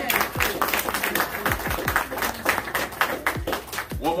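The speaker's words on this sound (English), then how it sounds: "Let's give the Lord a hand clap for praise." A church congregation clapping in praise during a Sunday service, steady loud applause with many hands, a few sharp individual claps standing out, and faint voices mixed underneath.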